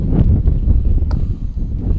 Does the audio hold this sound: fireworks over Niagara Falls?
no